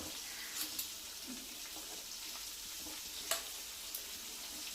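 KFC-style chicken legs fry in oil on a low flame, giving an even, soft sizzle with a few brief clicks and bumps as the pieces are turned, and no voices.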